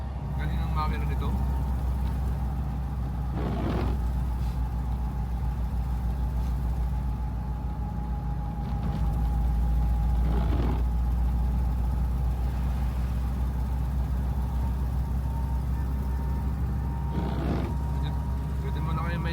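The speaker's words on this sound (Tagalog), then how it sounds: "Galing ang makina nito." Vehicle engine running steadily through a drive near Big Almaty Lake, a low continuous hum inside the cabin with occasional soft knocks while people chat over it.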